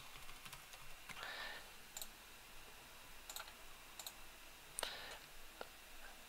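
Password being typed on a computer keyboard, heard as quiet, irregular key clicks in short clusters over a faint background hiss.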